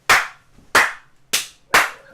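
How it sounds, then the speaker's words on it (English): Four sharp hand claps ring out close by at an uneven pace, each with a quick decay and no talking. "that was me clapping my hands"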